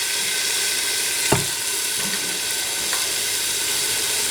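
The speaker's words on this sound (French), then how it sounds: "J'ai fait colorer le morceau de viande d'agneau que gigot avec." A piece of lamb leg meat browning in a pot, with a loud, continuous hiss and crackle of sizzling fat and a couple of brief knocks from a utensil against the pot.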